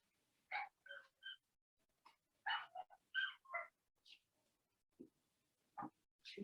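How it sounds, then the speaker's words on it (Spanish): Several female pet dogs howling and yelping at home in short, separate bursts, some high and thin, others lower, fairly faint and with no talk over them. "déjenme ir a callar a mis perritas que están aullando"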